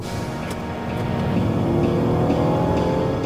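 Toyota Alphard with a 3.5-litre V6 under load, a steady loud engine drone that swells as the van accelerates, heard from inside the cabin with no talking.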